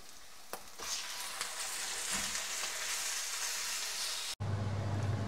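Lamb and scallions stir-fried in a wok give a loud, steady sizzle that runs continuously with scattered clanks of the spatula, close to the microphone, with no talking.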